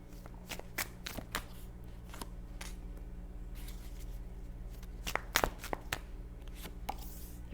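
Tarot cards are shuffled and drawn close up, giving quiet, irregular papery slaps and flicks, with a few sharper bursts of riffling against a soft, low background hum and no talking.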